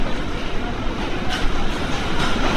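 Trains stand on both sides of the platform at Kamakhya junction station in Assam, India, giving a steady, loud rumble with faint rattling throughout.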